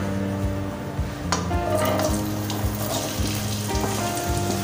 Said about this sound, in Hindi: अजवाइन पकने के बाद, क्रैकल होने के बाद इसमें हम ये सारी अरबियां डाल देंगे